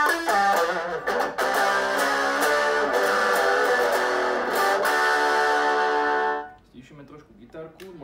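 An electric guitar played through a JOYO JA-02 mini combo amp with overdrive, volume at half and tone at maximum: a few distorted strummed chords ring and sustain loudly, then cut off into quieter picked notes.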